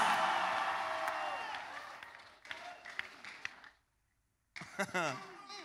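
Church congregation clapping and cheering loudly during a testimony service, a dense wash of applause and shouts that fades after a few seconds, a brief silence, then voices returning.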